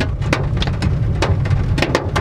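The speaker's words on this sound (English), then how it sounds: "All right, it's hailing now." Hail falling during a storm, a dense rattling patter of many hits with sharper stones striking irregularly, loud and close, with no voices.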